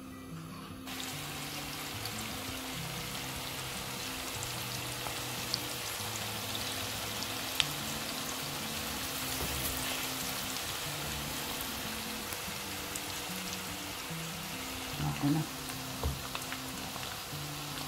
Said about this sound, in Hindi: अभी ये प्याज थोड़ी देरी जो है ना भूनेंगे